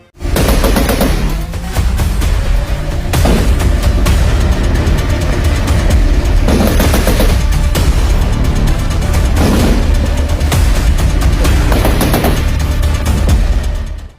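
A 50-caliber heavy machine gun fires from a Philippine Navy warship during live-fire testing off Zambales, loud sustained bursts of automatic fire with brief gaps between volleys, booming and close.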